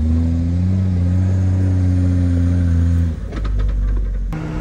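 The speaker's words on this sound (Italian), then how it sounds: "che bordello che fa sto motore" Loud, steady mid-pitched engine drone from a vehicle grinding along a forest track, holding a constant harmonic hum for about three seconds before a brief rough shift and then resuming, with no talking.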